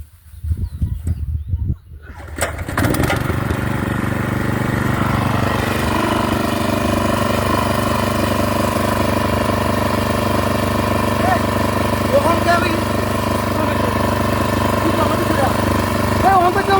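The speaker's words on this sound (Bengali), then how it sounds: "খালি মেশিনটা স্টার্ট দিচ্ছি" A machine's engine catches after a brief quiet start and then runs steadily and loudly, a constant droning hum with harmonic tones that holds through to the end, with birds faintly in the background.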